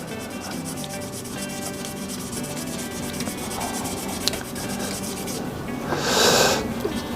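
Sandpaper rubs by hand against a turned resin shaving brush handle on a lathe, a steady scratchy rasp in quick repeated strokes, louder and brighter in a short burst near the end.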